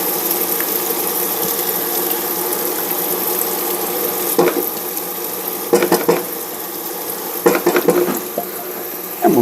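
Garlic sizzles in a hot pan alongside cod, a steady close frying hiss with occasional clinks and scrapes of a utensil stirring and tossing the pan.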